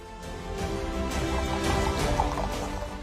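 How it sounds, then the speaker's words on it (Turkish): Continuous rushing and splashing waterfall water at a lake with a gurgling, trickling texture, steady and fairly close throughout. "kuş sesleriyle birleşen su sesleri"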